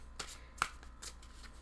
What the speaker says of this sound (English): You hear that? That's the cards. I'm shuffling cards.